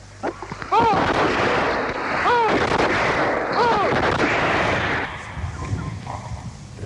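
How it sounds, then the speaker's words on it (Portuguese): Rifle volley fired as a military salute by a column in a colonial war forest setting: several sharp reports ring out with echoing tails, spaced about a second and a half apart, loud and outdoors amid ambient noise. "vai ser disparada uma salva de 3 tiros"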